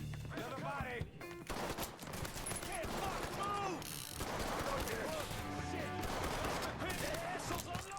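Gunfire in the Mafia III video game, with dense bursts of shots and mechanical clatter running continuously, mixed with music and a voice throughout.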